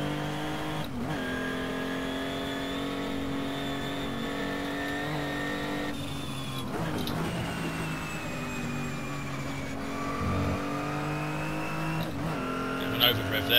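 A racing car's engine screams at high revs through a series of corners, its pitch rising and dropping with each shift, loud and continuous from onboard.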